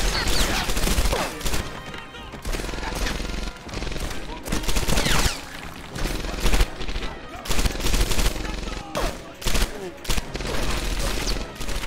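Rapid bursts of video game gunfire shooting out lights, loud and dense, with repeated volleys and brief gaps over about twelve seconds.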